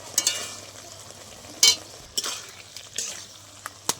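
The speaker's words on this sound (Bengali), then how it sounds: "ভালো করে নাড়িয়ে নিচ্ছি" Beans with poppy seed, mustard and green chilli stirred in a pan, a soft steady sizzle broken by a few sharp clinks and scrapes of the utensil against the metal.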